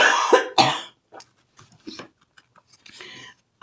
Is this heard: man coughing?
yes